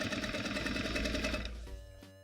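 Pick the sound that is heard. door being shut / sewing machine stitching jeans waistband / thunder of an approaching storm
sewing machine stitching jeans waistband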